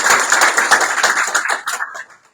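Audience applause at a municipal commission installation ceremony, a dense burst of close hand claps that thins into scattered claps and fades out.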